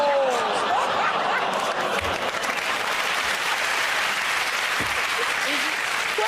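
Studio audience of a comedy panel show clapping loudly and continuously, a dense sustained wash of applause with a little laughter and a voice at the start.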